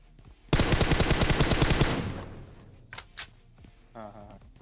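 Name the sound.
gunfire in the video game PUBG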